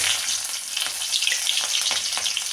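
Curry leaves and green chili sizzle and crackle vigorously in hot oil with mustard seeds, a steady close frying hiss peppered with sharp pops, no voices.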